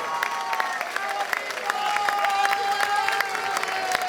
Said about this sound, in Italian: Allora voglio fare l'applauso al nostro pianista, il maestro Filippo Segato.